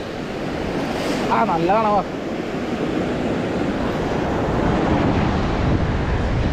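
Sea waves at Pondicherry rolling and washing ashore in a steady broad rush with wind buffeting the microphone, while a voice briefly speaks over the surf.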